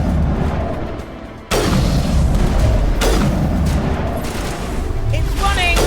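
Rocket blasts in the Mass Effect video game at Virmire land as two heavy booms about a second and a half apart, with sharp crackling impacts and rumbling combat noise continuing around them while someone speaks briefly.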